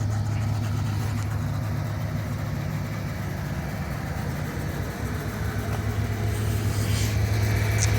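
A 1978 Lincoln Continental sedan's 7.5-litre 460 V8 idles after a cold start, a loud, steady low rumble with a constant throbbing drone close to the car.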